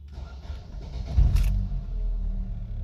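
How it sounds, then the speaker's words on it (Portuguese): A Chevrolet Vectra engine cranks and catches in a low rumbling burst, then settles into a steady idle heard from inside the car. "Agora vamos dar partida no carro para ver se realmente apagou"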